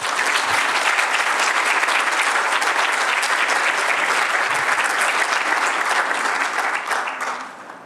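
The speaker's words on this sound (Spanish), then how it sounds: "Les pido un fuerte aplauso para recibir a nuestro ponente esta mañana." A conference audience gives a loud, dense round of applause to welcome the morning's speaker, a continuous wash of clapping that holds steady for several seconds before tapering off at the end.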